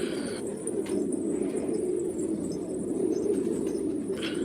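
Domestic pigeons coo softly and continuously in a loft, a low murmuring chorus from several birds close by, with faint rustles and brief higher chirps above it.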